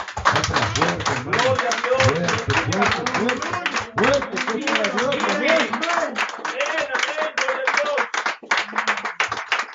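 A church congregation claps in praise, a dense, energetic burst of hand-clapping lasting nearly ten seconds, with voices calling out over the clapping.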